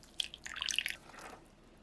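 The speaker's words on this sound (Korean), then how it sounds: "건져내어 채반에 받쳐 물기를 빼주시고요." Washed, shredded cabbage drains in a sieve, giving a brief run of soft, close drips and wet squishes over about a second before fading to quiet.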